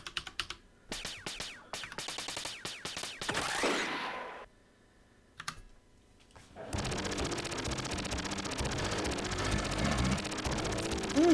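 Automatic weapon fire from a Metal Slug-style arcade run-and-gun game: brief bursts of rapid shots early on, a lull, then a dense, loud continuous barrage of gunfire and game noise through the rest.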